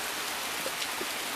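Steady rain falls outdoors, a soft even wash of drops pattering on surfaces, fairly faint and continuous with no voices over it.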